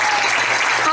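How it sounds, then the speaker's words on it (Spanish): Audience clapping at a children's beauty pageant gala in Venezuela, dense continuous applause from a crowd filling the whole second, with a voice faintly underneath. "A quien pido un fuerte aplauso."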